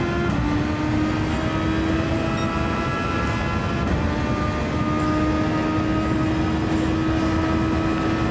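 A race car lapping a sim racing game track, its engine a steady, continuous drone with sustained tonal whine and no break, loud and alone without talk.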